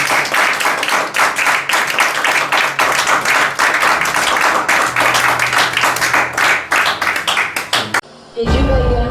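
A church congregation applauding loudly to acclaim the Lord, dense rapid clapping with voices mixed in, sustained for several seconds before cutting off abruptly near the end.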